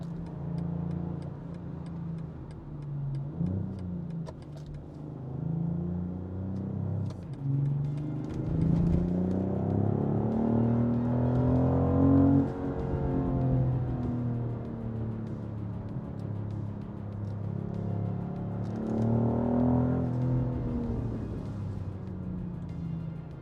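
A BMW X3 M50 engine hums and revs up and down twice, with scattered crackles and pops from the exhaust, heard from inside or near the vehicle.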